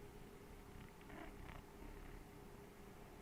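Soft, continuous purring from a cat being held and cuddled, a low steady rumble close to the microphone under a faint background hum, with no speech.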